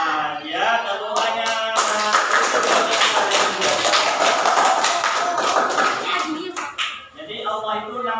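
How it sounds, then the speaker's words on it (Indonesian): An audience in a teacher-training session bursts into a dense burst of hand clapping lasting several seconds, with talk just before and after it. "Ya, tepuk tangan."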